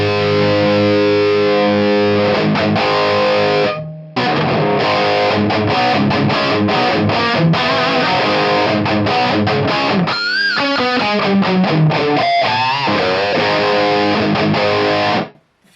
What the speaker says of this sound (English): Decent overdrive / distortion sound.